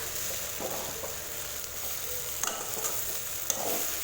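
Brinjal pieces frying in masala on a low flame, a soft continuous sizzle with occasional stirring clicks and scrapes, close and without speech.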